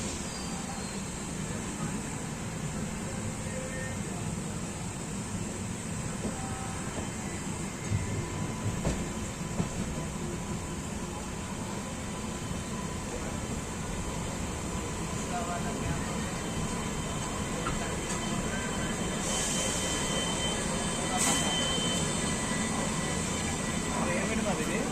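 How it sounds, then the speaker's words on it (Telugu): Seshadri Express, running from Kakinada Port to SMVT Bengaluru, rolls past on the adjacent track toward Vijayawada, a steady low rumble and rail noise heard from inside a moving train, continuous and moderately loud throughout. "ఇది మా శేషాద్రి ఎక్స్ప్రెస్."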